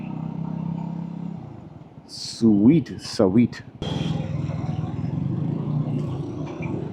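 A Lifan K29 250cc cruiser motorcycle engine runs steadily while riding, a low continuous rumble that carries on under a brief spoken exclamation partway through.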